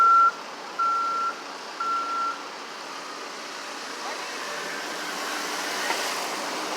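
Reversing beeps from a truck at a city construction site, three steady tones in the opening two seconds, fairly close, over a constant rumble of traffic and machinery.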